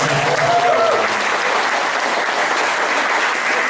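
Loud, sustained applause from a large audience at a student organisation's anniversary religious gathering, a dense even roar of clapping with faint voices beneath.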